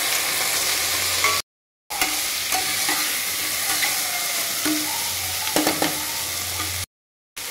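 Cabbage, beans and potatoes frying in a pan, a continuous close sizzle with scraping stir strokes and small clatters, briefly cut by two silent gaps.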